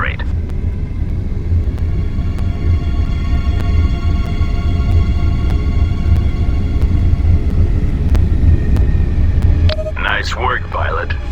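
Spacecraft in X: Beyond the Frontier accelerating to maximum velocity, a loud steady low engine rumble with a faint whine, and a voice chattering near the end.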